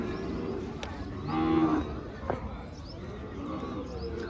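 A single low moo from a cow rises briefly over a busy outdoor cattle market crowd murmur, with voices talking in the background.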